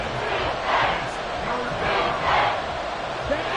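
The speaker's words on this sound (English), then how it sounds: "This crowd turning up the decibel level" A football crowd at a Turf league game roars continuously, a dense wall of cheering and shouting that swells in waves, loud and close, with no pauses.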